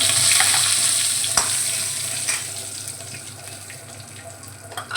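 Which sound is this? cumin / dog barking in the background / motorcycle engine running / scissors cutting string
cumin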